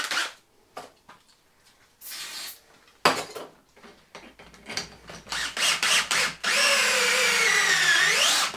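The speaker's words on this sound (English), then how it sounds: "drill just to de-rag the holes" A power drill whines up to speed near the end, de-burring holes in a turbo manifold throttle body adapter, after scattered clinks, taps and metallic handling noises in a quiet workshop.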